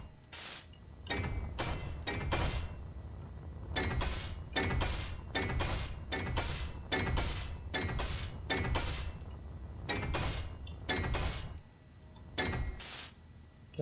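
Block welding in the Space Engineers video game, a rapid series of sharp, bright mechanical bursts in uneven clusters, each a short crackling zap, repeated steadily over a low background hum.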